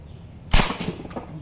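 A San Miguel glass beer bottle shattering when hit by an Action Army AAC-C1 Athena airsoft shot, one sharp loud crack with a brief tinkling scatter of glass after it.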